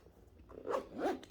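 A zipper on a handmade artisan bag is pulled in two quick, close rasping strokes with a brief pause between them.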